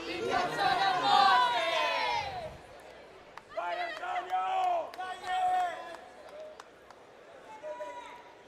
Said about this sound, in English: what you're hearing is the cheer squad for Antonio Silvestro.